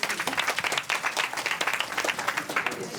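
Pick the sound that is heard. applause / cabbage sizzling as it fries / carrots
applause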